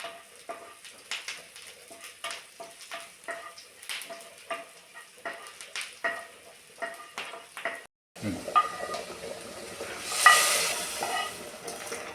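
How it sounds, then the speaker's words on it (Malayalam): Onions and curry leaves fry in a pan for mutton soup, with a steady sizzle and repeated scraping stirs. Partway through, a louder burst of hissing rises and then settles, and nobody speaks. "കറിവേപ്പിലയിട്ട് ഉള്ളി ബ്രൗൺ നിറം കാണുന്നത് വരെ ആവശ്യം നമുക്ക് ഇട്ട് കൊടുക്കും. ഇടയ്ക്കിടയ്ക്ക് ഇളക്കണം."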